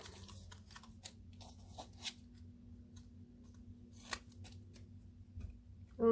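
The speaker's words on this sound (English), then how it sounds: "Oh, my scissors are sticky." Sticky scissors snipping paper chipboard embellishments at a craft table, a string of soft crisp cuts and clicks at irregular spacing over a low steady hum, close and quiet.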